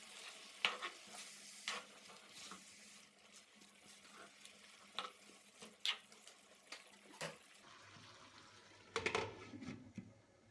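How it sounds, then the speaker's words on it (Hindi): Chopped tomatoes with salt, crushed cumin, crushed black pepper and green chillies fry in a karahi for Shinwari mutton karahi, a faint background sizzle broken by repeated scraping stirs of a spoon and a brief splash near the end. "फिर इसमें कटे टमाटर, नमक, कुटा हुआ ज़ीरा, कुटी काली मिर्च और मोटी सब्ज़ मिर्च डालकर भून लें"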